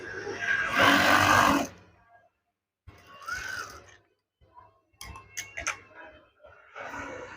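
A sewing machine stitching the top of a curtain runs in short mechanical bursts, a loud whirring run followed by quieter stop-start stitching and clicks, with a voice speaking between bursts.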